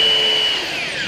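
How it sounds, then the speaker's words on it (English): Power drill with a chuck running steadily, drilling into a floor beside a Lionel train layout; a strong whine holds near, then shifts slightly lower partway through. "Okay, turn the drill on."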